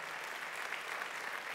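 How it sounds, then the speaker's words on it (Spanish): A church congregation applauding the Lord at a sermon, a brief, fairly faint burst of steady clapping from many hands. "denle un aplauso fuerte al Señor"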